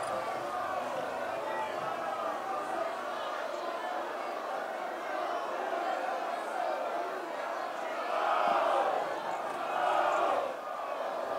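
A large excited crowd of people murmurs and shouts in a continuous dense babble, swelling louder in a couple of brief surges near the end.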